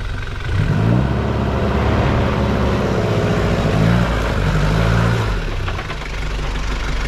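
A Mahindra 4x4 engine labours as the vehicle drives a wheel up over an obstacle, a loud close rumble that rises and falls in pitch through several revving swells before easing off.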